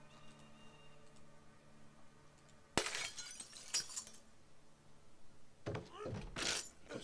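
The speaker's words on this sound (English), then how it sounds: "clear the glass in this window here" Glass being smashed out of a window in Project Zomboid, first a sharp breaking crash, then a second burst of shattering a moment later and more crunching clatter toward the end, over quiet game ambience.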